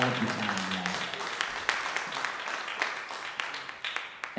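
An audience at a youth jazz combo concert night applauds. Sustained clapping from a moderate crowd, with sharper individual claps popping out now and then, holds steady throughout.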